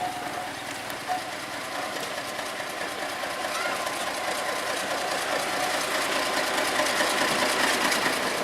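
Locomotive 07 on a sugar mill rail line at PG Jatiroto, its engine rumbling and clattering steadily throughout while people talk over it.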